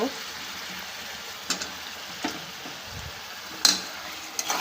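Pointed gourd (potol) frying with beef in a pan, a steady close sizzle with a few sharp scrapes and clinks of a utensil against the pan.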